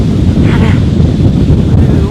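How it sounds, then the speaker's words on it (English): Strong wind blasts across the microphone in a loud, constant rumbling roar with no letup, and a voice is briefly audible within it. "is windy as hell."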